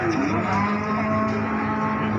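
Limousin cattle moo at a busy morning cattle market, a loud, drawn-out bovine lowing that runs through the whole moment, close by and with no talk over it.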